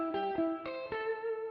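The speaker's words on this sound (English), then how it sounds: "Here's a room reverb." Four bright, plucked tonal notes processed through the room reverb in IK Multimedia MixBox, each attack followed by a short, roomy sustain that blurs into the next. No voices.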